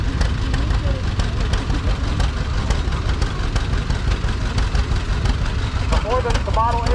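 An Allis-Chalmers Model G17 tractor engine idles at a rural tractor show, giving a steady, low rumbling chug that continues throughout while people talk nearby.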